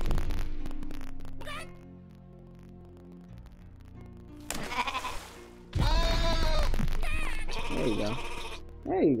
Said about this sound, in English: Herd the sheep in the pen, do not let black sheep get